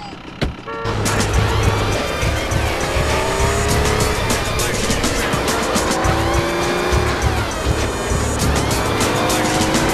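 A car in GTA San Andreas speeds along with a loud revving engine whose pitch climbs and falls through gear changes, tires squealing, up close and steady for the whole stretch.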